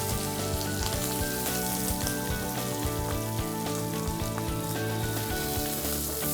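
Curry leaves, chopped green chili and shallots sautéing in hot oil, giving a loud, continuous close-up sizzle and crackle with occasional stirring scrapes.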